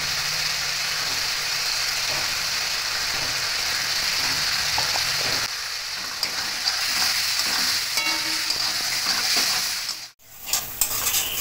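A spice paste with turmeric and Kashmiri chili powder fries loudly in hot oil for a fish curry, a steady dense sizzle running throughout with a few stirring scrapes and a brief dip near the end.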